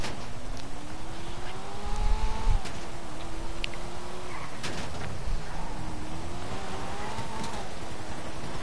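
A hot-wired car in a video game pulling away, its engine droning steadily and rising in pitch as it accelerates, then easing and climbing again, with a couple of bumps along the way.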